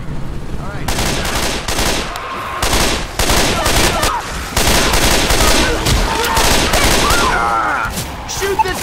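Dense, continuous automatic gunfire in Left 4 Dead 2 as survivors shoot at the Tank, loud bursts and fusillades layered with booms, with voices calling out over the shooting.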